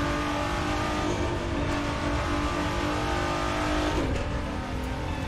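A GTR race car engine revs hard in the racing video game The Crew 2, a loud sustained drone with rising and falling pitch and a brief tire squeal near the end.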